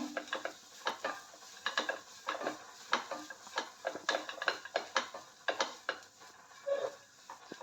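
Tree spinach (chaya) thoran being stirred in a pan, with a steady run of light scraping and tapping as a spoon moves the greens about, quiet and close, with a faint sizzle underneath and no voices.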